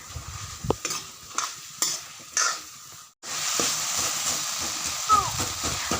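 Small fish and outenga (elephant apple) cooking in a pan, stirred with scraping strokes over a steady sizzle; a lid is lifted partway through and the frying grows louder and more constant.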